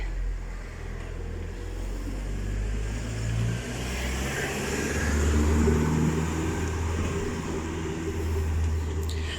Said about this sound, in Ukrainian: Тут, о, їде машина, треба тікати.